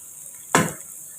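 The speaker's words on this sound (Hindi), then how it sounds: "इसीलिए हम 3 से 4 मिनट के लिए अच्छे तरीके से फ्राई कर लेंगे" Food hitting a hot pan gives one brief, sharp sizzle that quickly fades, short and close, while macaroni is being fried.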